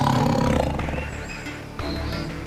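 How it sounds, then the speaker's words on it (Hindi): A loud, close jackal growl used as a sound effect in a Hindi fantasy story, a rough snarling roar that swells at the start and then trails into a lower rumble. "और एक तेज गुर्राने की आवाज गूंज उठी।"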